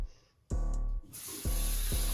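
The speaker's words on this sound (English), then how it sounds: "I'm going to spray my rose water on my face" Rose water sprayed onto a face from a spray bottle in a home skincare routine, a few short close hissing spray bursts with brief gaps between them.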